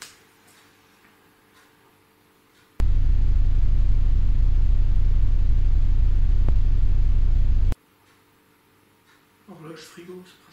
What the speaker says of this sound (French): En effet, il y a beaucoup de voitures qui passent.